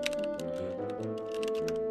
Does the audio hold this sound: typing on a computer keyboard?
yes